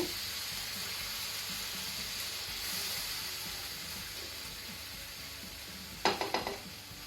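Prawn ghee roast masala stirred slowly in a pan over a very low gas flame, a steady faint sizzle and hiss throughout, with a short run of several spoon scrapes and taps near the end.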